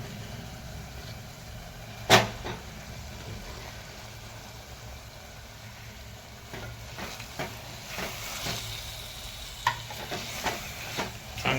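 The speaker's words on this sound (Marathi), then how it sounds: "चांगले असे मिक्स करून घ्यायचे" Marinated prawns stirred into biryani gravy in a pan: a soft background sizzle with one sharp clang early, then rhythmic scraping and stirring strokes building toward the end.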